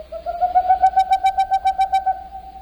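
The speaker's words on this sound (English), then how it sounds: "The boreal owl's call has been compared to a non-vocal sound of last week's mystery bird" A boreal owl calling alone: a rapid, even series of about a dozen hollow hoots rising slightly in loudness, clear and close against a quiet background.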